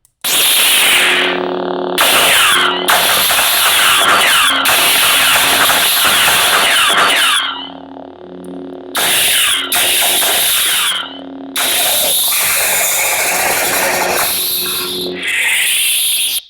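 A series of loud lightsaber hums and crackling ignitions using Kyberphonic sound fonts on a Proffie board, each switched on and held for a few seconds, broken by short silences, with steady buzzing tones.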